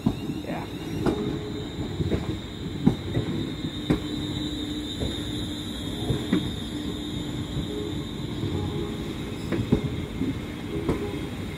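A train, 380 011, arrives at Gourock station, rumbling and clattering steadily, wheels clicking over rail joints with occasional squeals, a continuous mechanical roar at close range.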